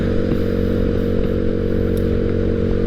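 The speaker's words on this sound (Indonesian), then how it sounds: "8 motor yang jalan" A group of eight motorcycles rides together on a morning trip, their engines blending into a loud, steady, close drone with no voices.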